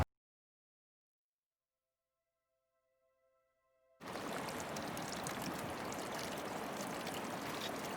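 Snowmelt water rushing through a stream in the Gunnison Gorge of western Colorado, a dense steady wash of flowing water that starts abruptly after a few seconds of near silence with a faint tone, then continues loud and close.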